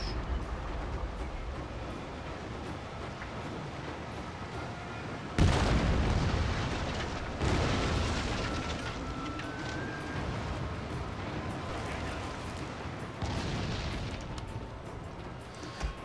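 Cannon fire booms out in a naval battle in the Shogun 2: Total War video game, several heavy blasts a few seconds apart rising above a steady background of battle noise.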